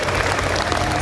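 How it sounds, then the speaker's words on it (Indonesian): Audience applause at an evening Islamic lecture in Gresik, a steady wash of clapping and crowd noise filling the whole second, loud and continuous with no clear voice above it. "tepuk tangan dong untuk masyarakat Gresik"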